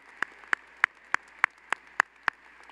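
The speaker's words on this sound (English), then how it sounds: "give her a nice little happy birthday clap?" A graduation ceremony audience at a Clemson spring master's commencement gives a birthday clap: eight slow, evenly spaced sharp claps, crisp and fairly distant, with quiet room tone between them and no talking.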